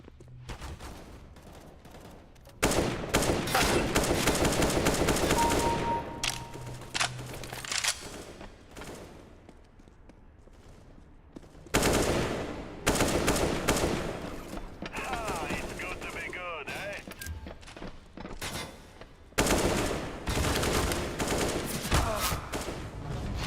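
Counter-Strike gunfire comes in loud rapid bursts of automatic rifle shots, separated by short quieter gaps. A voice is faintly present in places.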